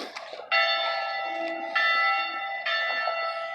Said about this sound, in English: Church bell's right there.